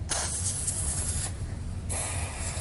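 Lubricant sprayed from a can onto the main drive chain of a Stair Master 4000 stepper, with a towel held behind it: two long, steady hissing bursts close up, with a softer dip between them and no talking.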